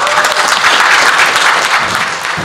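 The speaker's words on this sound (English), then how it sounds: "give him a round of applause" Dense, close applause from a presentation audience, a steady wash of many hands clapping at full volume throughout with no talk over it.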